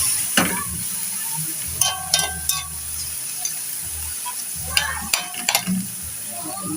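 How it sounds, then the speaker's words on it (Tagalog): Chicken for adobo sautés in a pan, loud scraping stirs and clacks of the utensil breaking up over a steady hissing sizzle, with bursts of activity separated by calmer frying. "gisa lang po natin ng maigi ang ating manok para hindi po sa malansa"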